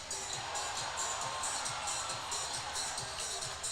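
Crowd at a Binghamton Black Bears vs. Watertown Wolves ice hockey game roars and cheers after a fight, a dense, steady arena-wide wash of voices with a rhythmic pulse, fairly distant and sustained throughout.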